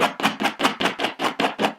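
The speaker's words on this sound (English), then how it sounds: "I'm fully scratching the bag." Fingernails scratch rapidly across a pebbled leather bag in a quick, even series of about nine rasping strokes, close up and with no talking.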